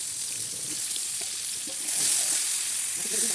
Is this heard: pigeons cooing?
no